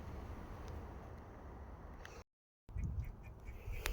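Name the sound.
chipmunk chattering outdoors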